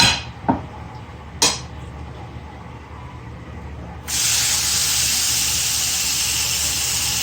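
Beef steak cooking in a pan over low heat: a couple of sharp clinks, then a steady broadband sizzle that swells suddenly and holds, close and fairly loud with no talking.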